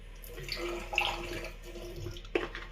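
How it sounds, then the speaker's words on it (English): A faucet runs steadily while water is added during a wet shave with an Artique soap and a Gillette Slim Adjustable razor, a close, continuous rushing stream with a faint hum beneath and a brief clink near the end. "So whenever the faucet turns on, that's because I'm adding water to this."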